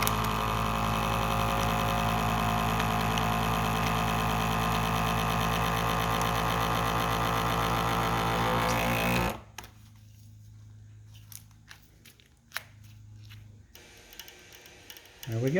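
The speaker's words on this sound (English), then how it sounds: "we will vacuum seal this" A vacuum sealer drones loudly and steadily, then cuts off abruptly, leaving a quieter stretch with faint clicks and rustling.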